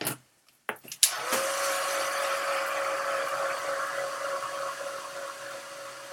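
A hair dryer switches on after a couple of short clicks and then blows steadily and loudly with a constant whirring hum while drying a mixed-media art journal page.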